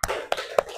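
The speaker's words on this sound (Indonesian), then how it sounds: "Beri tepuk hebat dulu buat kelompok A." A school class does a rhythmic 'tepuk hebat' clap routine, three sharp, evenly spaced claps in quick succession, fairly faint and close.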